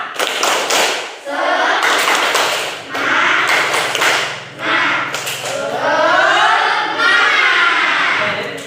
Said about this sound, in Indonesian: Coba, masih ingat ya tepuk semangat?